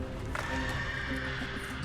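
Horses being unloaded neigh and whinny while hooves clop on the ground, a dense, continuous close-up mix of animal calls and hoofbeats with faint background murmur.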